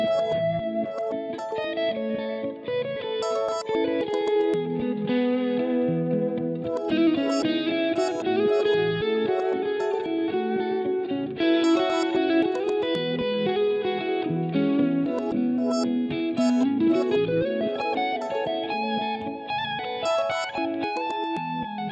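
A sustained electric guitar lead plays melodic lines with a thick, effected tone from a Line 6 HX Stomp amp modeler, distorted and chorused, steady and fairly loud throughout.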